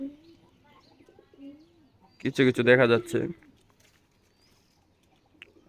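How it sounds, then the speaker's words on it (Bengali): Wild forest pigeons coo in a short, loud burst of rolling calls nearby, set against quiet morning surroundings with someone speaking briefly before and around the calls. "আর এই যে কবুতরগুলো এখানে ডাকাডাকি করতেছে।"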